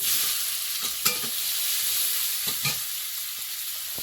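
Chopped onion, garlic, dried red chilli and whole cumin frying in oil, a steady close sizzle with a few soft stirring knocks, no voices.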